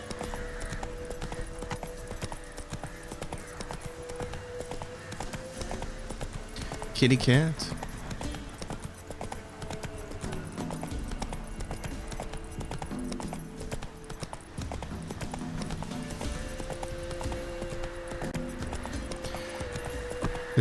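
Horse hooves clip-clop steadily as a mount is ridden in a video game, a continuous rhythmic patter under casual talking, with a brief louder burst of sound partway through.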